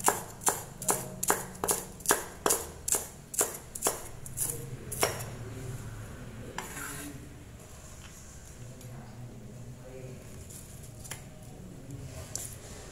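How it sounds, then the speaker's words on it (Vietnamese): Green onion stalks chopped finely with a knife on a cutting board, a quick regular run of about a dozen crisp close knocks, then quieter scraping and handling sounds with a few scattered taps. "Cái phần cẳng hành các bạn cũng cho thái nhỏ ra để mình xịt thơm cùng với tỏi"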